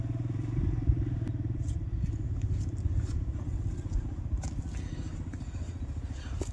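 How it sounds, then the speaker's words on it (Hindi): Motorcycle ridden into a forest near a village in the Leepa Valley, a low steady engine drone at moderate distance with faint clicks and scrapes from the terrain. "जंगल के अंदर जाना चाह रहे हैं वसीम मोटरसाइकिल पे।"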